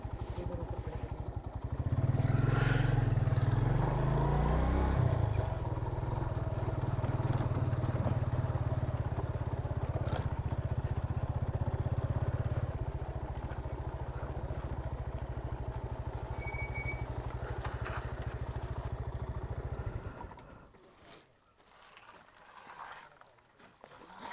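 A motorcycle on a bike tour rolls into the parking area at Rohtas Fort, its engine loud and throbbing up close, then settling into a steady idle before cutting off, with brief voices nearby.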